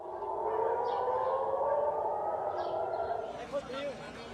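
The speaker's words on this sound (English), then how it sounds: "Sirens were heard wailing across Jerusalem early on Thursday." Distant air raid sirens wail across Jerusalem in long steady tones beneath a voice speaking over them.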